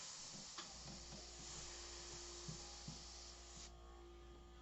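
Airbrush spraying paint for a portrait, a steady continuous hiss of air and paint that runs for several seconds and then cuts off, with a low steady hum beneath and a few faint knocks.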